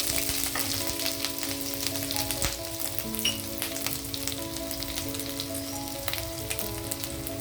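Ginger pieces frying in hot oil with cumin and mustard seeds, a dense close sizzle with crackling pops and occasional stirring scrapes throughout.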